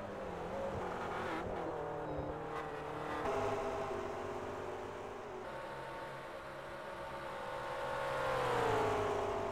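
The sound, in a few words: race cars lapping the track during qualifying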